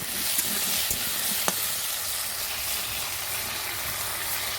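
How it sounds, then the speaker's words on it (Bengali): Papaya pieces fry in a pan in a home kitchen, giving a steady close sizzle and hiss with no talking. "পেঁপেটা একটু ভেজে নেবো।"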